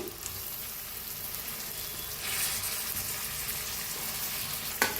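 Steady sizzling of eggplant frying in hot tempering oil, a continuous crackling hiss that swells slightly midway, with a brief clatter near the end.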